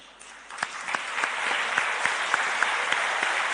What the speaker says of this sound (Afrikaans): Kan ek vra dat ons sommer weer so sal opstaan en net vir hulle lekker hande klap gee?